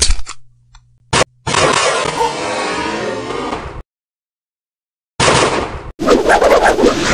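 A flintlock gun and a matchlock bird musket fired at targets on a historical drama range: loud blasts and rushing bursts separated by silent gaps.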